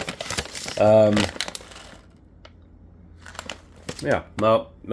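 A 12-ounce resealable bag of Ministry Laughing Monkey coffee with a tearaway strip crinkles in bursts of plastic rustling and snapping between stretches of someone talking nearby.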